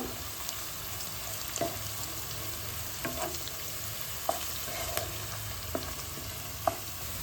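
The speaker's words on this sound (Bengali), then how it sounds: "লাইট ব্রাউন হওয়া অবধি একটুখানি ফ্রাই করে নেবো" Sliced onions with a pinch of salt fry in oil for a chicken pulao, giving a steady close sizzle broken by a handful of sharp clicks from stirring, with no voices.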